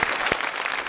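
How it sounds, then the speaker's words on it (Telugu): A brief burst of audience applause from a television show crowd, dense and continuous clapping that is loud and close. "చప్పట్లు."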